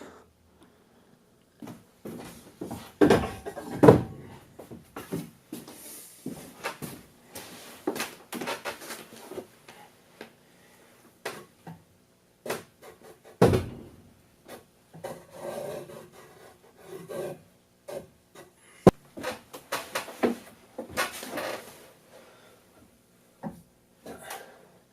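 A homemade wooden rowing machine in use, giving repeated irregular wooden scraping and rubbing strokes with short bursts and pauses between them. A few knocks stand out, and the sound is fairly close and quiet.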